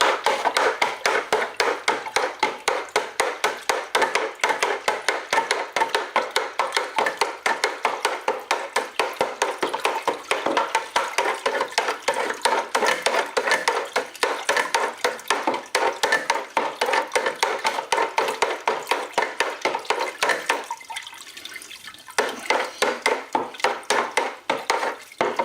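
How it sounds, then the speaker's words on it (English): Wash, a fermenting mash for a still, being stirred in a container: steady, fast repeated scraping and sloshing strokes run continuously for about twenty seconds, pause briefly, then resume, fairly close and even in level. "Now we'll stir that in again."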